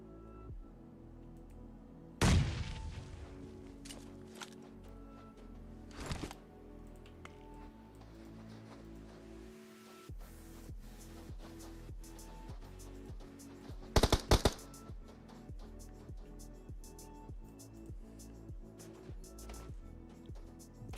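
Grenade blasts and bursts of gunfire from a battle royale video game match, with sharp booms and rapid crackling shots coming in sudden loud clusters over a low background of game noise.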